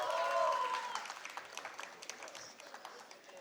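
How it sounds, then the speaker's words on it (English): Applause from the audience at an NMIMS university convocation, loud at the start and thinning to scattered clapping, with a few tonal traces of voices or sound from the hall mixed in. "applause please."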